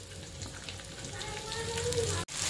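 Chopped onion frying in hot oil with cumin seeds, a steady close sizzle with faint crackle running throughout, briefly cutting out near the end.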